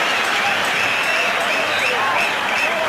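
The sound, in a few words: cricket crowd buzzing in anticipation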